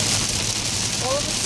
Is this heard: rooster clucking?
no